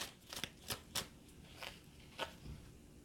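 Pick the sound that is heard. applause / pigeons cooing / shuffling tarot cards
shuffling tarot cards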